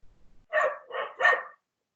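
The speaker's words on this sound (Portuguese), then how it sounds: "senão eu ouço o cachorro" A dog barks three times in quick succession, moderately loud, with faint low rumbling before the barks and no talking, during an online class.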